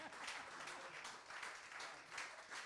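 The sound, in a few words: audience applause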